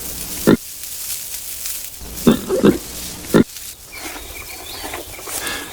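Pygmy hog, the world's smallest pig species, giving three short, loud grunts at irregular intervals, spaced apart over a quiet background with faint rustling and no talk.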